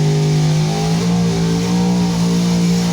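Loud, steady exhaust drone from a 1998 Mustang GT running through Flowmaster two-chamber 2.5-inch mufflers, a deep continuous rumble held close up with no talk.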